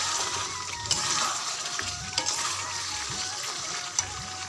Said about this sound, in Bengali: এই দেখো মাংসটা কষাচ্ছি, মাংসটা দিয়ে তেল ছেড়ে এসছে